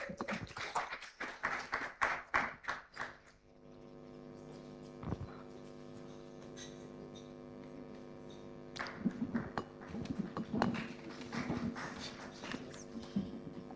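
Applause at a graduation ceremony in a Nairobi hotel, a burst of clapping from a small audience that fades out into a quiet room with a sustained tone, then scattered claps and taps returning later.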